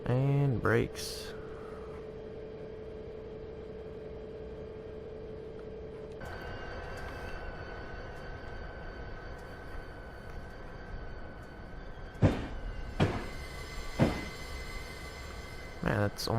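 A passenger train in the Train Simulator 2016 game slows under braking, with a steady electric hum and tonal whine followed by several sharp hissing bursts of air released near the end.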